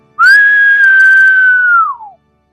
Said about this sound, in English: they heard a sharp whistle behind them